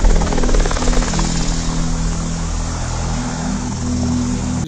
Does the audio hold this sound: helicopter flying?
yes